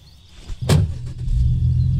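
A car driving in the video game Thief Simulator 2, its low engine hum rising and holding steady after a brief thud, fairly close and with no talk.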